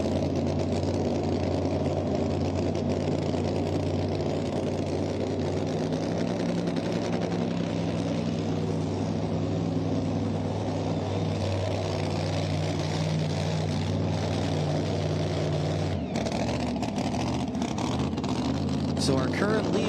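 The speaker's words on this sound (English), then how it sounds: "the Ford that he calls Rampage. This one powered by a Sassy Racing Engines Hemi." A Ford pulling truck named Rampage, powered by a Sassy Racing Engines Hemi, roars steadily at a tractor-pulling event, a loud sustained engine drone with an announcer talking over it throughout.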